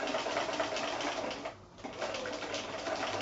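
A sewing machine stitches a fabric seam on a gift bag with a steady, fast mechanical whir. It pauses briefly partway through, then resumes running.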